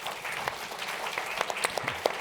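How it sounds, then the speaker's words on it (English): Warm audience applause for the panelists at a ministerial energy forum in Singapore, a steady dense clatter of many hands that holds for the whole stretch, with a few sharper claps standing out near the end. "So I all ask you for a warm applause to the panelists."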